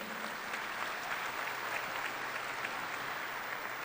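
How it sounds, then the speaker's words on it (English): A crowd at the 2019 Highland Park graduation ceremony claps steadily, a dense, even wash of applause heard from some distance with no voices over it. "Let's give them an applause."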